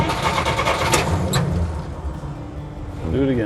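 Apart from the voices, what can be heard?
car engine starting with a tap on the throttle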